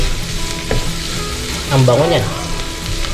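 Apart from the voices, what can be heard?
onion, garlic and chili frying in a pan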